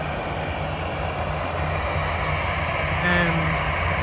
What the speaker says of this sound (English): WestJet Dash 8 400.